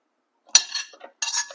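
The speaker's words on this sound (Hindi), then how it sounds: "अब हम एक अच्छे इंसान की तरह बर्तन अभी धोएंगे और शाम पर नहीं रखेंगे" Dishes being washed in a home kitchen after lunch: two short bursts of clinking metal cutlery and pots, close by, separated by a brief pause, with no talking.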